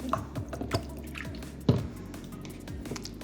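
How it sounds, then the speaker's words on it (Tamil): Soy sauce dripping and trickling into a balsamic vinegar dressing in a kitchen, with several soft liquid drips and splashes spread irregularly over a few seconds at close range, no talking. "சோய் சாஸ் இன்னும் கொஞ்சம் ஊற்றிக்கிறேன்."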